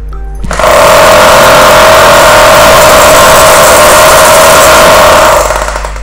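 A Bosch 220 V three-mode hammer drill runs in concrete drilling mode, a loud steady motorized whine with a buzzing hammer rattle that starts abruptly and holds evenly for about five seconds before winding down, with no voices.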